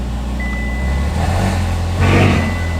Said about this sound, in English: Oh my god, it's really unique, the sound of this car.